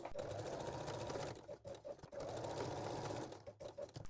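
A sewing machine stitches lace bralette fabric while backstitching. Two close, whirring bursts of rapid stitching are separated by brief stops and restarts as the direction reverses.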